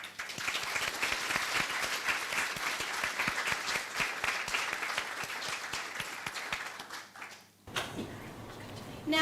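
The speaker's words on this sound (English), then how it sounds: "we need to give a massive round of applause while these 3 come and join us as part of the panel" Sustained applause from a large audience at a business incubator showcase on the Gold Coast as three panel members walk up, dense and steady for about seven seconds before briefly dipping and resuming.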